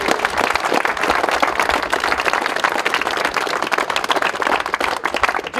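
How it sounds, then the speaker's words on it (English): Airsoft players gathered after a game applauding together, a loud, continuous burst of many hands clapping at close range, with crisp individual claps standing out and a few cheers buried in the crowd. "Give yourselves all a big round of applause."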